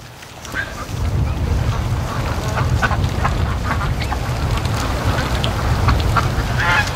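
A flock of ducks quacks repeatedly as they rush toward a lake, the calls scattered and overlapping above a steady roar of strong wind across the microphone.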